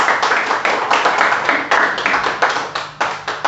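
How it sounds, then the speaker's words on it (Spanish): A church congregation claps together in a lively, rhythmic round of applause, sharp hand claps repeating at a quick, even beat throughout, loud and close, with no one speaking over it. "Bríndale el fuerte aplauso al Señor"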